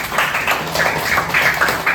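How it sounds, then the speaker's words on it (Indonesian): A short burst of group clapping, fairly loud and steady, from a room full of people. "Tepuk tangan buat kalian semuanya."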